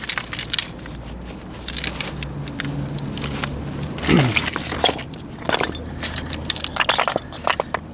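A tool scrapes and crunches through mud and gravel on the Thames foreshore during mudlarking, close and gritty, in irregular strokes with stony clinks.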